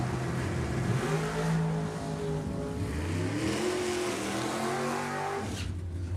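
NHRA drag racing cars launch down the strip at the Sacramento Pacific National Open, engines roaring loud and close with rising and shifting pitch for several seconds before the sound drops away near the end.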